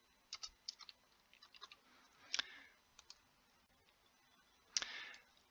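Soft clicks on a computer keyboard as a postcode is typed, in a short run of light taps. Two louder clacks follow a couple of seconds apart, all fairly quiet and close.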